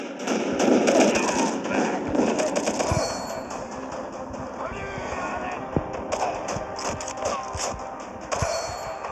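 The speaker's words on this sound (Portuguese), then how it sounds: "vamos tacar a granada aí" Explosions and gunfire in the first-person shooter Major Gun, including a thrown grenade blast, come as repeated loud bursts and crackling shots over dense game noise, with background music and effects throughout.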